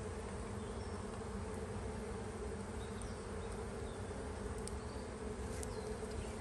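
Honey bees hum continuously on the frames of an open hive, a steady, dense, close buzz with a few faint clicks and no voices.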